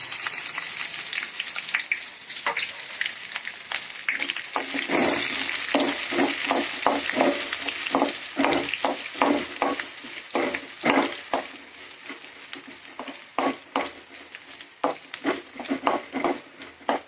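Onions sauté in hot oil for a coriander-leaf tamarind curry, a strong close sizzle broken by repeated rhythmic scraping strokes of stirring that grow more choppy and pulsed toward the end.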